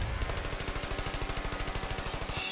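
A turret firing in the video game Trials of the Blood Dragon, a rapid, steady stream of evenly spaced automatic shots, fairly quiet and unbroken for a couple of seconds.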